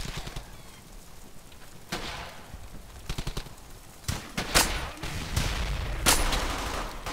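Gunfire in the WWII shooter Brothers in Arms: Hell's Highway: scattered single shots and sharp bursts, with the loudest reports clustered toward the end over a constant battle ambience, no talk.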